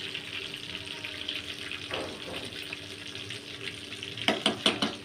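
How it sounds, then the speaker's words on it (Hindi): Rohu fish deep frying in oil in a pan, a steady soft sizzle with occasional sharper crackles and bubbling bursts near the end, close and moderately quiet. "ताकि ये डीप फ्राई हो जाए अंदर तक सही से गोल्डन"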